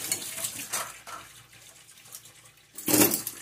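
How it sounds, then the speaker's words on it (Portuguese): Tap water splashes over a spoon held in the hand at a kitchen sink while dishes are washed, heard as a few uneven bursts of running and splashing separated by quieter gaps. "Pra enxaguar a colher, eu gosto de botar bastante assim na minha mão, jogar água assim"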